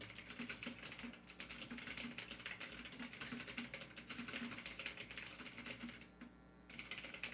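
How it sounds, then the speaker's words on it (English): Rapid typing on a computer keyboard, dense overlapping clicks and taps in quick bursts, close and moderately quiet, with a brief pause near the end before the keystrokes resume; no talking. "Sorry if you hear me typing."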